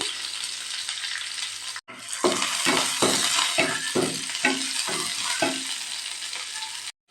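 About twenty small onions hit hot oil with mustard seeds in a pan, giving a loud, continuous sizzle broken by rhythmic scraping strokes of a stirring spoon.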